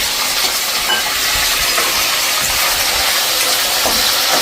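Chopped bottle gourd hitting a hot pan of oil with cumin, curry leaves and asafoetida, giving a steady, close, broadband sizzle and hiss that holds level throughout with no talking.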